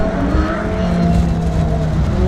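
Audi race cars lining up on the grid at Phillip Island for an Improved Production sports car heat, engines idling and burbling together in a steady, loud, continuous rumble with no talk over it.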